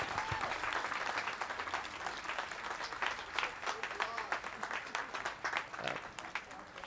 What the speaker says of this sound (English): Please give yourself and the project team a round of applause.